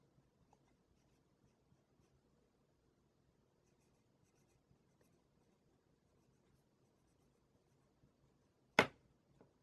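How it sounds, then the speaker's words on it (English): Fine liner pens, a Paper Mate Flair and an Amazon Basics, scratch faintly across paper in soft, steady strokes, ending with one sharp tap near the end. "The Amazon one is smooth when you're writing."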